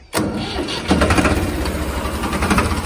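An old Ford tractor fires up on its self-starter with a sudden cranking catch, then settles into a loud, close, chugging diesel idle with a steady throbbing pulse.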